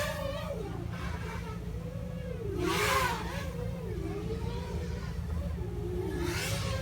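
Small Hyperlite 1103.5 brushless motors on a tiny FPV drone whine in flight, pitch sliding up and down as the throttle shifts, with a louder surge midway, all heard through a steady hum.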